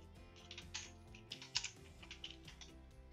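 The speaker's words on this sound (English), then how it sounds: "So I'm just typing some" Close, quiet typing on a computer keyboard while entering Python code, a quick irregular patter of key clicks with a few louder strokes and no voices.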